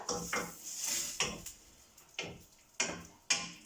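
A spoon knocking against a cooking pot as stock is stirred in, several distinct clinks and taps spaced irregularly over a soft background, fairly close.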